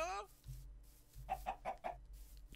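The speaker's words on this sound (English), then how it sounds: "Chicken." A chicken in the Minecraft video game gives a few quick clucks in a short run near the middle, over low game background noise.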